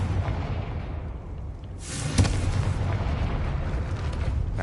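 The Confringo explosion spell from Hogwarts Legacy, cast at a gate: a single sharp blast bursts out of a steady ambient rumble and leaves a lingering crackling tail, with no voices.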